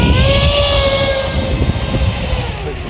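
A DIY radio-controlled model jet taxis on the ground, its turbine giving a loud, steady high whine with a broad rushing roar throughout.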